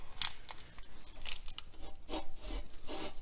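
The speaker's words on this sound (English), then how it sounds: "And I take my little handy dandy cheese grater here." A hand cheese grater scrapes across a block of Romano cheese in several soft, raspy strokes, close but quiet, with no talking.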